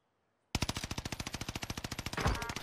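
Automatic rifle fitted with a 2.5x scope firing in a video game: after a half-second of silence, a sustained rapid burst of evenly spaced loud shots runs to the end, with a brief louder swell near the finish.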